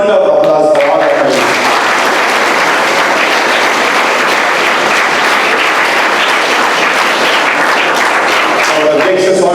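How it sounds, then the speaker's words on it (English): Loud, dense applause from a large audience at a school sports day event, a steady wash of clapping that holds for several seconds between short stretches of speech at the start and end. "A huge round of applause for all of us."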